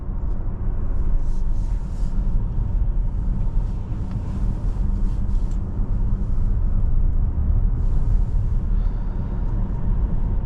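Steady low road and motor rumble from inside a 2024 Volvo XC60 T8 Recharge Core plug-in hybrid accelerating in full electric mode, a constant close wash of tire and wind noise with no talking.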